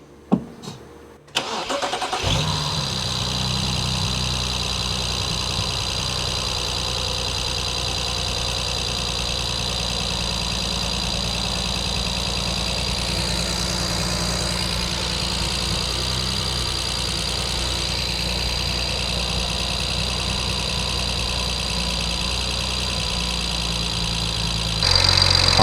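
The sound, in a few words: BMW N-series petrol engine starting and idling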